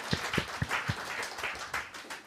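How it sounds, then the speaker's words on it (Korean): A small church congregation claps, a few distinct hand claps at first blending into scattered, moderately faint applause. "주님께 박수로 영광 돌리겠습니다."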